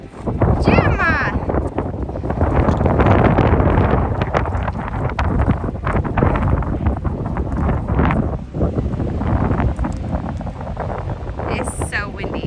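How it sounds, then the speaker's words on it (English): Strong wind buffets the microphone outdoors on a rural back property with a dog playing near water, a loud steady roar with gusts across the whole stretch. "It's so windy."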